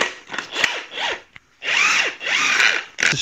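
Spring compressor being wound down on a strut from an Audi A6 C6 during suspension teardown, close ratcheting tool bursts with scraping metal, in several separate runs with short pauses between.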